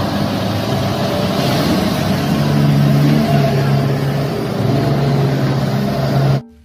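Toy mining dump truck with an engine sound effect, a steady loud motor drone with a revving character that runs continuously for about six seconds before cutting off abruptly.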